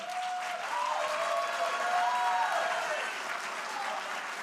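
Audience applause fills a debate hall, a steady wash of clapping from a crowd lasting several seconds, with a voice faintly carrying over it.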